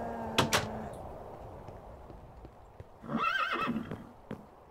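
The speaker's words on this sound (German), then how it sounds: "Da lacht das Pferd." A horse in Minecraft whinnies in a rising, wavering call after two sharp knocks, set against a quiet background.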